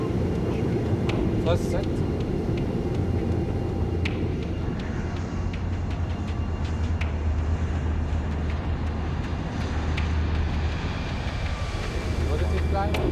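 Airliner taking off from runway 13 right at Kennedy, a continuous loud low engine roar with wind-like rush heard from near the runway, while a voice speaks briefly over it.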